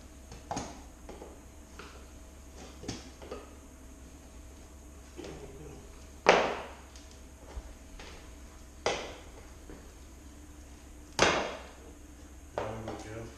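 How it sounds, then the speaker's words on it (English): A flathead screwdriver prying the cut centerpiece of a hardwood floorboard out of a glued floating floor, producing a series of sharp wooden cracks and knocks every couple of seconds over a low steady background. "I'm going to pull the centerpiece out first. I'm just using a flathead screwdriver"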